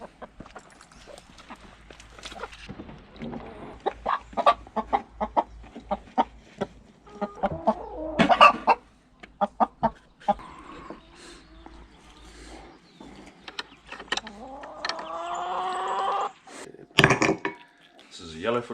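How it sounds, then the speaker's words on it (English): Chickens cluck and squawk in irregular bursts around an outdoor spot, some calls close and loud, with sharper cackles toward the end and a few clip-clop-like knocks among them. "Chicken."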